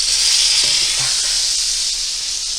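Pounded pork chops sizzle loudly in a hot frying pan, a steady close hiss of fat and juices with faint pops and no talking.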